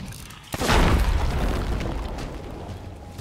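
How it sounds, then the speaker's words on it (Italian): A loud, close explosion from a keg in the pirate game Sea of Thieves booms out suddenly, then a long rumbling tail slowly fades beneath the mix. "Bella esplosione"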